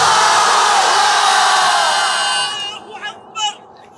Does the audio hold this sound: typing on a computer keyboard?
no